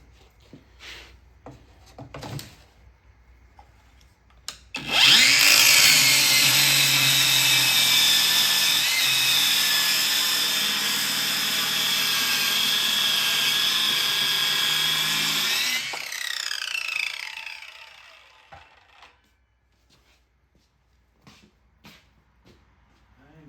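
A power saw, blade set just over 3/4 inch deep and running in a guide groove, whines loudly through an arcade cabinet's wood for about ten seconds, then winds down, with scattered knocks and handling noises before and after.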